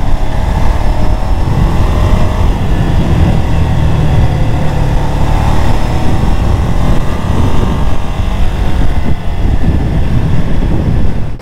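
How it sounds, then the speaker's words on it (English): A Ducati Scrambler motorcycle engine revs and pulls steadily, its deep exhaust rumble continuous and loud, with wind buffeting the microphone throughout. "let's see if we can get some good exhaust sounds of the Scrambler"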